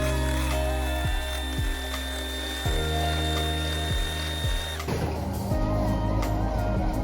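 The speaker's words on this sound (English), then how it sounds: "So I'm just gonna add half of it first and start the electric mixer." An electric hand mixer whirs steadily as it beats sugar into batter, a continuous motor drone with repeated knocking sweeps of the beaters against the bowl, becoming rougher and busier near the end.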